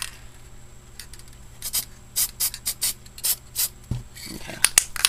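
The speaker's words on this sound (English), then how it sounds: "So I'm going to start spraying in this corner here, and then I'm just going to sweep through that way." Protective spray hisses onto scrapbooking paper in a series of short, rhythmic bursts as the can sweeps across, fairly close, over a faint steady hum with a few small clicks.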